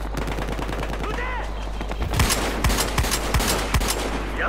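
Loud gunfire from the Battlefield Hardline video game: a stretch of rapid, dense shooting, then a series of about five heavy, evenly spaced shots close up in the second half.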